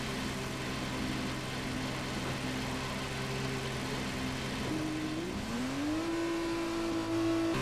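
An F2 race car engine from the game F2 2020 during qualifying holds a steady, buzzing drone, then climbs sharply in pitch as it accelerates and settles at a higher whine.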